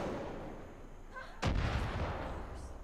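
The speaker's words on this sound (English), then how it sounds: "Out of everything I could have got it with, I got it with the pistol." A single booming pistol gunshot in the video game Far Cry 5 cracks loudly midway, its blast decaying over the next second against a low background rumble.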